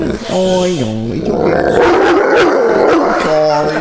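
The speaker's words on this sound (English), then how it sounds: "He's a guard dog, so be careful." A guard dog gives growls, yips and whimpering barks close by, mixed with people talking.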